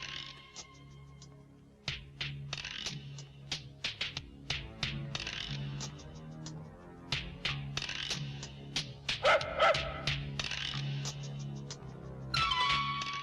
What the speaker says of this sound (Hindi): ये क्या बदतमीजी है शोभराज? ऑफिस में कुत्ता लाने का क्या मतलब है? बाहर ले जाओ उसे।